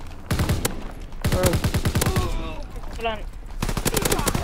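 Rapid shotgun fire in the Gridiron video game, several fast rattling bursts of shots at close range, with someone speaking briefly between them.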